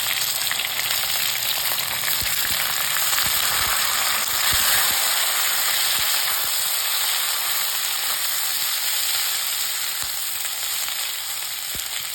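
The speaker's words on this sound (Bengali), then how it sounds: "আলুগুলো হালকা লাল হয়ে ভাজা হয়ে গেলে এর মধ্যে আমি দিয়ে নেব কড়াইশুঁটিগুলো" Diced potatoes and green peas frying in a kadai with oil and turmeric, a steady loud sizzle running throughout with occasional faint stirring knocks, no talking.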